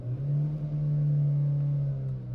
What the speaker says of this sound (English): I wonder what happens when I floor it.